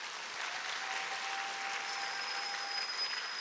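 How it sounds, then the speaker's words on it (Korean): A church congregation gives encouraging applause to the worship team at a Wednesday service, a soft, even, distant patter of many hands that continues steadily without a break. "우리 격려의 박수 한번 부탁드릴게요."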